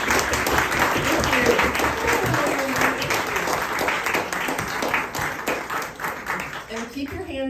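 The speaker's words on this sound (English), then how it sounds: "And keep your hands going for Michael, our sound person" Audience applause from a live street performance, steady dense clapping throughout, loud and close, with a few cheers mixed in.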